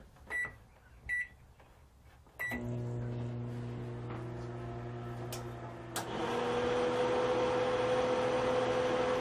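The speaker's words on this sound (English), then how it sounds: "I'm even gonna turn on the microwave." Three quick beeps, then a click as a microwave oven in an RV starts humming steadily; a second click and louder whirring fan noise follow, continuing to the end.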